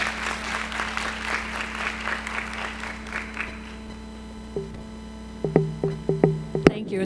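An audience at a panel discussion on adoption applauds to welcome a speaker, steady clapping that fades out, followed by a few sharp knocking sounds.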